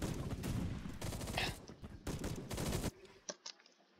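Automatic fire from an STG-44 rifle in the video game Phantom Forces: sustained rapid bursts of loud gunshots, close and dense, with a short pause in the middle, then the firing stops and a few faint clicks follow.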